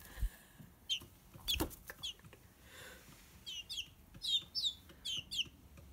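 Young chicks cheep and chirp in quick repeated bursts, close and fairly quiet, with a few soft clucks and handling noises between the calls and no talking.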